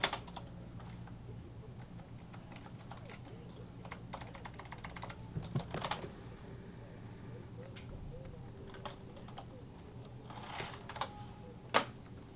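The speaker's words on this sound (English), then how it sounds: "You keep typing." Steady keyboard typing clicks continue quietly throughout, with a few sharper louder keystrokes and a faint background hum.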